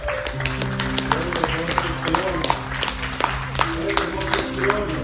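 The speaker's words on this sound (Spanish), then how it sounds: "Fuerte aplauso a nuestro Dios" Enthusiastic applause from a church congregation at a Christian worship service, steady clapping sustained throughout over music and voices.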